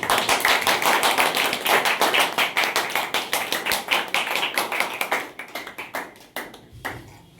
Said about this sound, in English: So, clap for them.